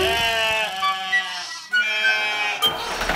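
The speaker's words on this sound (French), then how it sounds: "il y a des centaines de moutons" Sheep bleat in a few wavering calls, one after another, clear and close, set against a sung melody.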